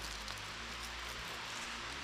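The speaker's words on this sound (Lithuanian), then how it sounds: "Ir vėl lietus stipriau." Steady rain falls during trout fishing by a river in a wooded Lithuanian area, a continuous broadband hiss of drops on leaves and surfaces with low rumble beneath, filling the whole stretch with no talking.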